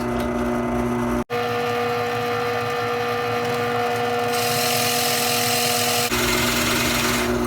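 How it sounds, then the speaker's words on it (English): A steady mechanical hum from a drill press on its slowest speed continues throughout, with a brief dropout and a change in tone as it drills wood, close and loud. "I've got the drill press set on its slowest speed"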